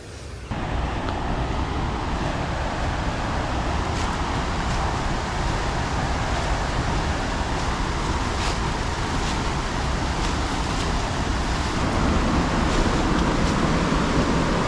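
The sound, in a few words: Athirappilly waterfall on the Chalakudy river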